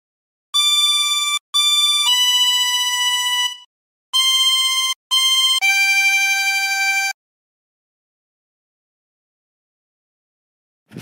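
A 20-hole tremolo harmonica plays a phrase of Silent Night as clear, sustained reedy notes in several held tones with short breaks, loud and close, followed by silence.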